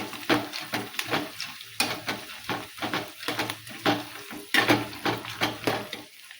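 A spoon stirs poha chivda frying in a pan with peanuts, roasted chana and curry leaves, giving rhythmic scraping strokes over a soft, steady sizzle, close and clear with no talking.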